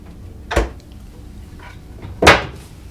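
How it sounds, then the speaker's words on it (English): A mini fridge door in a cruise ship suite aboard Radiance of the Seas swings open with two soft, close thumps about two seconds apart, set against quiet room tone. "An additional door on this side, that would be your mini fridge."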